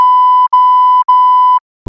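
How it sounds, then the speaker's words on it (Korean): Censor bleep covering a swear word: a loud pure electronic tone held in four steady pulses separated by brief gaps, with no voices. "삐삐삐삐 하고 있나요?"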